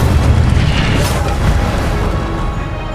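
A fire spell cast over and over in Hogwarts Legacy, heard as a loud, dense roaring blast with booming low rumble that stays continuous throughout and tapers slightly at the end.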